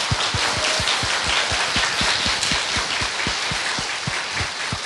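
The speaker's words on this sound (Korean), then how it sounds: "박수 좀 부탁드립니다." A live audience at a Korean talk event applauds to welcome a guest, a steady, even wash of clapping with a regular low thumping beat running underneath.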